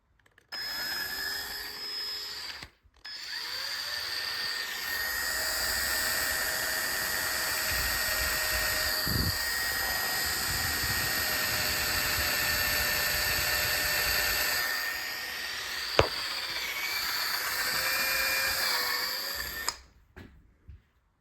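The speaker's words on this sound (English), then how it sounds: "I'm drilling holes all the way around, both sides" A drill whines steadily at high pitch for long stretches, drilling holes around a stuck square taper bicycle bottom bracket, briefly stopping and restarting, with a sharp metallic tick near the end.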